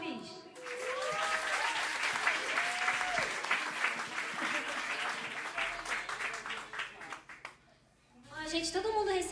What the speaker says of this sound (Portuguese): Palmas pro Cris.